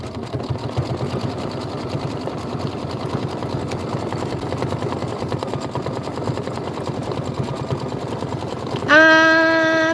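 A home embroidery machine stitches the outline of a bunny on a mini quilt block, its needle hammering in a fast, even rhythm, then stopping and giving a short, bright electronic beep.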